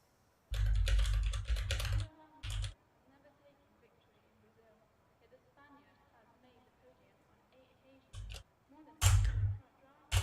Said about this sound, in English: I don't like talking in the chat while typing because my keyboard is like the loudest ever.